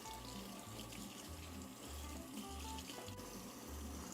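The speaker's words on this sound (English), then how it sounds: "Just rinse it out real good. Make sure you get the filters." Tap water runs into a kitchen sink while the small mesh filters of a Vinci Express 2 cold brew coffee maker are rinsed out, a faint, steady splashing and trickling with no talk.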